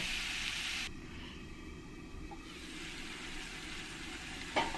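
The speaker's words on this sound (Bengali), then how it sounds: "মিডিয়াম ফ্লেমে আস্তে আস্তে একটু আলুটাকে আমি কষিয়ে নেব" Potatoes sautéing slowly over a medium flame in a Bengali-style soybean and egg masala, giving a steady, fairly faint frying hiss with a soft bump near the end.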